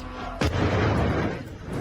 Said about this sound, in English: There's going to be an explosion now